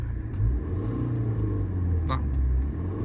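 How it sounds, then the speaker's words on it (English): A 2016 Mini Cooper Clubman 2.0 diesel engine idles with a steady low rumble, then briefly revs up around the middle before settling back to a low drone. "It's a diesel, so it's not going to sound amazingly exciting"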